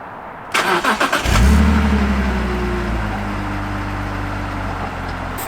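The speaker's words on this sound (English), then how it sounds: "It's on a completely stock exhaust at the moment, but yeah, cool. Let me start her up." A warm BMW E46 on its stock exhaust starts up: a short stutter of starter cranking, then the engine catches with a loud burst and settles into a steady, close idle rumble.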